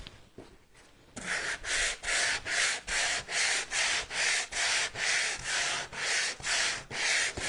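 A waxed wooden sign board is sanded by hand in firm, even back-and-forth strokes, about fourteen rasping passes in a steady rhythm. The sound is close and fairly loud, with no voices.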